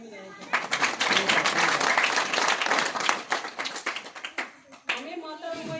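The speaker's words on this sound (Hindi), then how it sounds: "इनके लिए ताली बजाएं।" Audience at a tribute gathering breaks into clapping, a burst of many hands that swells quickly, holds for a few seconds, then tapers into scattered claps before a voice begins speaking.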